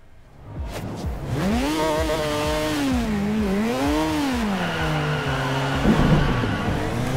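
A Mazda's engine in the racing game Forza Horizon 2 pulls away and revs through gear changes, its tone rising and falling in a loud, steady drone that sits close and clear, with no talking.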